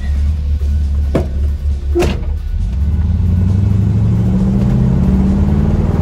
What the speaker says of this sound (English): let's take this thing out for a test drive and make sure we're absolute positive that this thing is running good